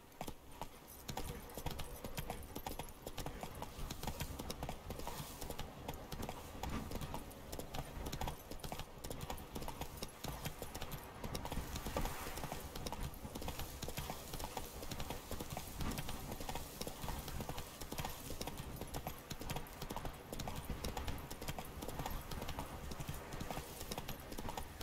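Roach, the horse in The Witcher 3, gallops with a fast, continuous drumming of hooves over a dense, steady game soundscape. The hoofbeats stay quiet throughout.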